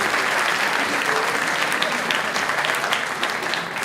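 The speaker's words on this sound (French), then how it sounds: "on peut quand même l'applaudir" A theatre audience at a political campaign meeting in Dreux applauds steadily, a thick, continuous wash of clapping at even loudness, easing slightly toward the end.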